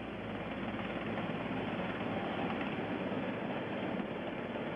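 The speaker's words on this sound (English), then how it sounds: "Helicopter number 66 with astronauts Borman, Lovell, and Anders." Recovery helicopter number 66 carrying the Apollo 8 astronauts Borman, Lovell and Anders approaches the stern of the recovery ship, a steady, loud rotor and engine drone running continuously without a break.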